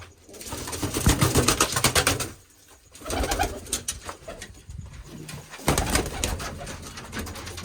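Pigeons coo in low, throaty bursts, close by and fairly loud, with brief pauses between the rolling calls.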